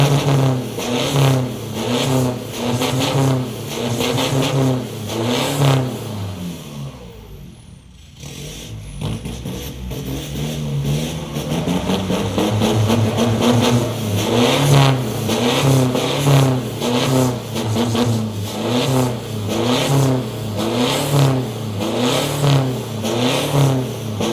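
Repeated loud revving from a car with a deep, raspy Mang Sang aftermarket exhaust, the engine note surging up and down over and over, briefly dropping away midway.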